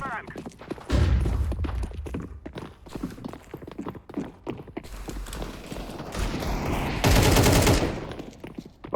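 Gunfire in Counter-Strike, a run of sharp rapid shots with bursts under the players' chatter, including one loud dense burst near the end.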